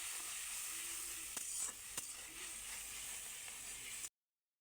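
Turmeric, cumin powder and salt are fried in a pan, a faint, steady sizzling hiss with a few quiet spatula knocks as they are stirred, ending abruptly.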